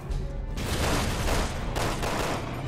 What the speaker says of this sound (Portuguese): Boa, explodiu a parada